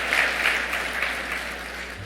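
Steady audience applause in a hall at a bowling association's annual convention meeting, dense continuous clapping from many people at even loudness throughout.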